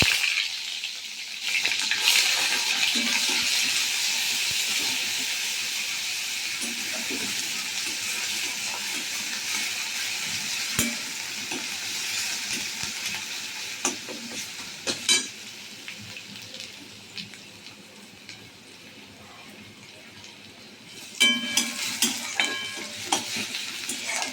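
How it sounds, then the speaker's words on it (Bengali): Grated onion hits hot oil already holding fried cumin in a pan, bursting into a loud sizzle that settles into steady frying, with scattered spoon scrapes and clinks of stirring and a sharper clatter near the end. "এবার দিয়ে দেবো আমি পেঁয়াজ গ্রেট করা পেঁয়াজটা"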